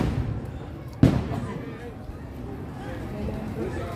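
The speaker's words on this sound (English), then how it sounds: "The fact that we're hearing the explosion like so far away." A single muffled boom from a distant Fourth of July firework explosion, heard once over steady outdoor background noise.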